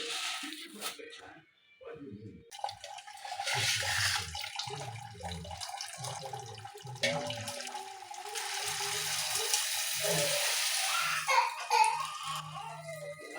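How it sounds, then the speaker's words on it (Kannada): Black-eyed pea lentils are washed under running water in a kitchen sink. The splashing and trickling flow comes and goes, mostly steady and close, while a voice talks over it. "ಬೇಳೆನ ಚೆನ್ನಾಗಿ ವಾಶ್ ಮಾಡ್ತಾ ಇದ್ದೀನಿ."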